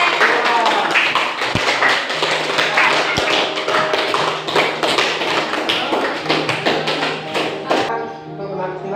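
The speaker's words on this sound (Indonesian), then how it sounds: "kita berikan aplaus untuk kelompok 5" A classroom gives a round of applause for group 5, many hands clapping in a fast, dense patter for about eight seconds before it breaks off, with a few voices mixed into the noise.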